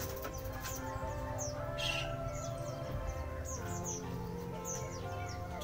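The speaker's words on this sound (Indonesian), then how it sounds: "masih banyak burung jenis lainnya teman-teman." Caged birds chirp and tweet at an Indonesian bird market in Malang, with many small calls and flutters over a steady bustling background, and no voices heard.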